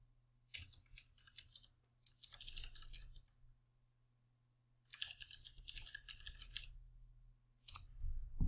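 Bursts of typing on a computer keyboard while entering a test address into a landing page form, several clattering runs of keystrokes separated by pauses, close and fairly loud.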